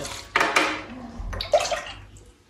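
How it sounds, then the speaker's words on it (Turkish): Milk ladled over güllaç pastry sheets in a dish for the dessert, two short splashy pours close by with a quiet gap between them and no talking. "Şöyle güllacı ekledikten sonra üzerine sütü ekliyorum."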